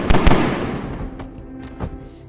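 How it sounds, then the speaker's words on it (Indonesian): Gunshots ring out in an action film, a quick burst of loud, sharp cracks at the start followed by a few fainter, scattered shots fading into echo. "Ternyata itu adalah tembakan dari David yang berhasil melepaskan diri."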